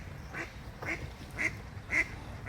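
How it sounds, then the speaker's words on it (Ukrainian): Several ducks quack at a slow, irregular pace at the Kvitka Polonyny sanatorium, the calls moderately faint over a low rumbling background with no one speaking. "там живуть качки, ми ходимо інколи їх годувати"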